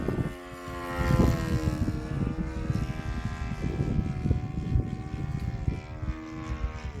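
A small propeller-driven radio-controlled model plane drones steadily overhead, its buzzing engine whine holding a constant pitch over wind noise for several seconds.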